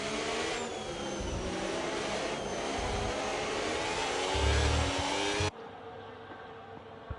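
Racing car engines roar continuously in a racing video game on the Mexico City circuit, loud and steady, with a rising rev swell before the sound cuts to a quieter engine drone.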